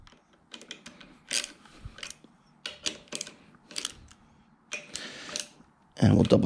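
A ratchet snugging down bolts on a 2018 Indian Scout Bobber motorcycle, short bursts of rapid clicking separated by pauses, close by, with a final louder clatter at the end.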